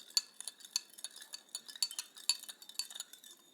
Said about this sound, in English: let's stir it once more